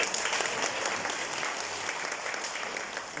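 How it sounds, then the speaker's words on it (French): Dense audience applause at a L'Oréal Professionnel product launch event in Mauritius, steady continuous clapping from a crowd filling the room. "On peut les applaudir."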